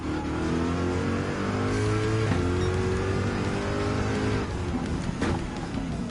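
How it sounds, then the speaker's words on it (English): A race car in Gran Turismo 7 at Le Mans, its engine note dropping as it slows, then climbing again under throttle, loud and continuous with shifts between gears. "Deaccelerate and pull out with some few amount of gas to go hard on the lap."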